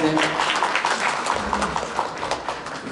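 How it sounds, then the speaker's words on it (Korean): Audience applause at a user seminar celebration concert, dense clapping from a crowded room heard under a voice talking over it. "여러분 박수 한번 보내주세요."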